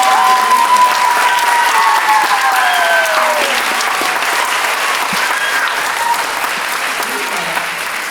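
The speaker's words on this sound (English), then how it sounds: "If we can give Miss Murphy Archer a big round of applause" An audience at a school production of Peter Pan gives a sustained round of applause, dense and steady throughout, slowly tapering, with voices talking faintly underneath.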